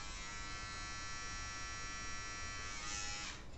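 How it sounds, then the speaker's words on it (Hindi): A Philips Series 7000 vacuum beard trimmer hums steadily and evenly at close range, a constant motor buzz with no talking, shifting slightly in tone near the end. "so this is the sound of the trimmer"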